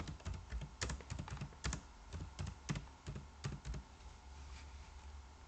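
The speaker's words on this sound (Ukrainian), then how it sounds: "Ентером я натискаю, зміщується рядочок, пишу клас work." Steady typing on a computer keyboard while entering text in Miro, a run of close, crisp key clicks in uneven bursts with slightly heavier thumps on some keys, heard alone with no talking.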